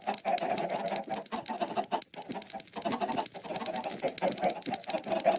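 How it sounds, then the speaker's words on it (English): Minecraft chickens clucking repeatedly in a game world, a busy layer of short bird-like calls and clicks running throughout at steady moderate loudness, with no talk. "Right, so I'm just gonna go ahead and kill all the chickens."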